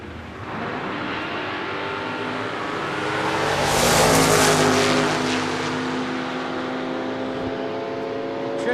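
Drag race cars, including a Chevy II Nova, launch in an Open Comp final round, a loud roaring engine blast that swells to a peak and then fades as they tear off down the strip.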